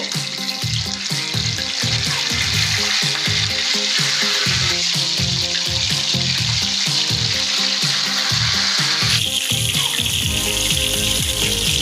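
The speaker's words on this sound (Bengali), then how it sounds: "তেল গরম হওয়ার পরে আমরা মুরগিটি দিয়ে দিব" A whole chicken frying in hot oil in a kadai for a roast, giving a loud, steady sizzle with rhythmic low thumps of stirring or turning throughout, then a harsher, brighter hiss near the end.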